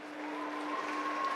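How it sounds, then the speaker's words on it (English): Audience clapping at a U19/U21 bouldering semi-final in Sukoro, a brief steady wash of applause with a faint tonal hum running underneath. "They get a big round of applause from the audience"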